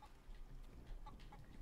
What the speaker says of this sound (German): Oh nein, da ist wieder so ein Huhn drin